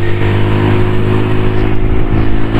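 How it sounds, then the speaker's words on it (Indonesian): A carbureted Honda Beat scooter fitted with a Vario 110 pulley revs up, its engine a loud, close, steady drone with a low harmonic buzz for a couple of seconds, no voices. "Kita gas nih."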